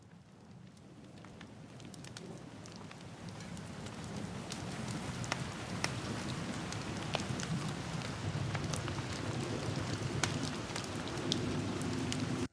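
Foley rain, gentle and heavy layers mixed together, patters steadily on a surface, with sharp individual drop ticks scattered over a dense hiss that slowly grows louder and stays close, with no voices.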